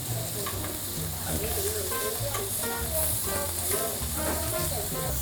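Fatty, thick-cut pork belly cooks slowly over low heat at a 33-year-old local restaurant with a steady sizzle and frying crackle that runs continuously throughout, up close, with faint scattered clinks.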